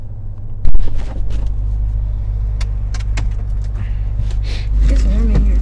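A car interior fills with a steady low road rumble while driving, with a sharp thump near the start and people talking over it toward the end.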